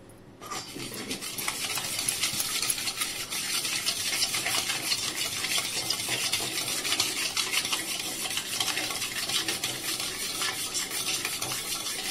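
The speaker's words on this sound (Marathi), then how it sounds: "आणि आता हे हलवून घेऊया साखर वितळेपर्यंत।" A spoon stirs citric acid, salt, oil and sugar in a bowl for Gujarati khaman dhokla batter, a continuous close scraping swirl that keeps going without a break.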